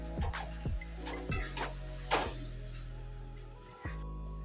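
A spoon stirs chickpeas into oily simmering chhole gravy in a pan, making soft repeated scraping strokes every second or so over a steady faint sizzle.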